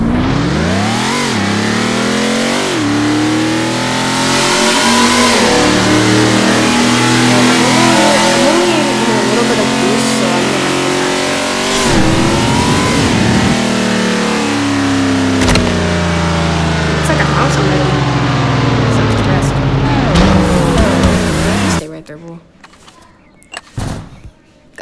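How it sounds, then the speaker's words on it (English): Police NASCAR stock car in the Roblox game Jailbreak, its engine revving loud and close for about twenty seconds with rising and falling pitch sweeps, then cutting off abruptly to near silence with brief clatter. "I'm gonna tell you how loud is this NASCAR in Jailbreak"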